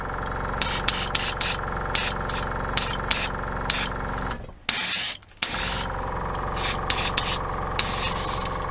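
Airbrush spraying Vallejo Game Air chainmail silver paint thinned with a little blend onto model promethium relay pipes for 40k terrain, a steady close hiss in repeated short bursts with a brief pause midway.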